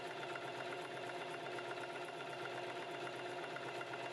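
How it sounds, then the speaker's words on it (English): Electric sewing machine stitching a buttonhole with a buttonhole foot, run by foot pedal at an even speed, giving a steady rapid mechanical whirring and clatter throughout, close and uninterrupted. "Now you can use the electric foot pedal to start sewing, making sure to keep a nice even speed."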